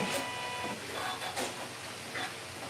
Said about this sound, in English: I'm sewing on a Janome Continental M17.